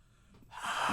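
A single close, breathy rush of air into a microphone, starting soft and swelling to a loud huff.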